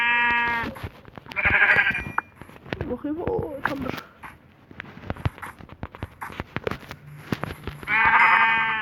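Synthetic sheep bleats sound in short bursts at the start and end, with people talking and game sounds in between.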